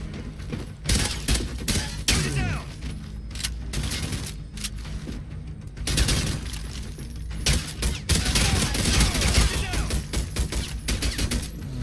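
Pistol gunfire in the shooter game Deadswitch 3, rapid loud shots in dense bursts with thuds and impacts, nearly continuous over the whole stretch, with a voice talking underneath.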